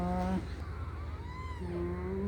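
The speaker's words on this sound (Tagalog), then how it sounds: "Mga pusa ko po ito." Pet cats meowing indoors, a clear near meow at the start followed by a longer, wavering cry, with a steady low hum beneath.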